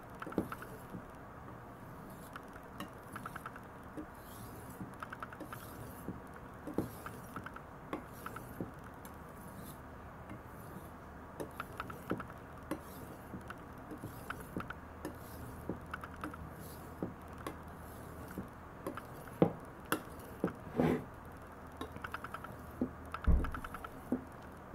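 A Sakon 210mm VG-10 gyuto knife scraping across a dry diamond sharpening stone, a soft gritty patter of repeated strokes with small clicks and knocks, fairly quiet and close, with no one talking.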